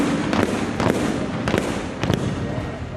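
Artillery cannon fire during a French Army capabilities demonstration, a series of booming blasts and rumbling reports in the distance, overlapping under a loudspeaker commentary voice.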